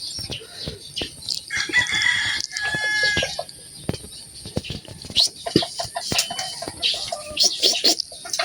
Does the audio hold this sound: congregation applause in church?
no